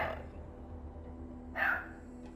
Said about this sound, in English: My dog was barking just at people going by.